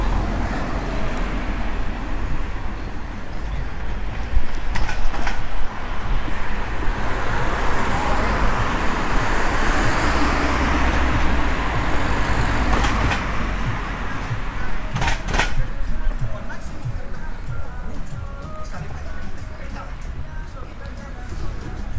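Busy road traffic in Puerto del Carmen, Lanzarote: a steady wash of passing cars and engines rolling by, with occasional louder vehicles and someone talking over the constant roadway noise.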